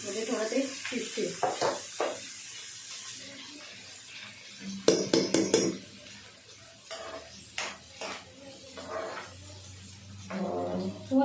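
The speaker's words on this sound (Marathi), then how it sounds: "आता आपण ह्याच्यात ना आधी थोडं हे व्हेजीस टॉस करूया" Chopped vegetables are tossed and stirred in a pan for red sauce pasta, giving scraping, clattering utensil sounds in irregular bursts with a soft sizzle underneath and someone talking over it.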